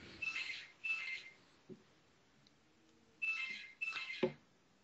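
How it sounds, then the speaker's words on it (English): A telephone rings in the background in two pairs of warbling trills with a gap between them, faint and distant, with a few soft knocks nearby. "Excuse the phone ringing in the background."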